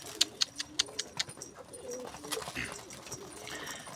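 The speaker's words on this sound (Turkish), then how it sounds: "Arkadaşlar posta kuşu sadık bir kuştur." Homing pigeons coo softly in a coop amid a cluster of sharp, bright clicks at the start, with a low, rustling background throughout.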